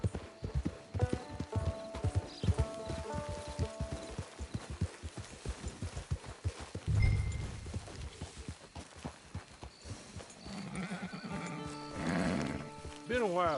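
Horse hooves clip-clop steadily in Red Dead Redemption 2 Online, with a neigh partway through and more game sounds near the end. Voices talk over the hoofbeats.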